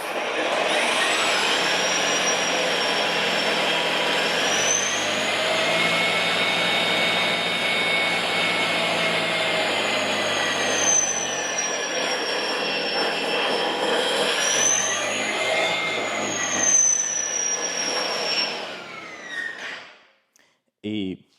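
EGO POWER+ 24-inch self-propelled battery snow blower running steadily for about twenty seconds, with a loud, continuous whirring hum and a high whine that wavers slightly before the motor cuts out and spins down.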